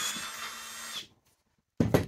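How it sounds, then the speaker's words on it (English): A power drill starts a hole through melted-down PVC near a fish-finder transducer during an ice-fishing setup, giving about a second of steady high whine, then silence, then a short second burst. "Take your drill."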